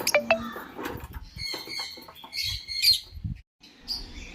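A pair of sun conure parrots kept as a breeding pair gives sharp, high chirps and squawky calls in scattered bursts, close by, with brief pauses between calls.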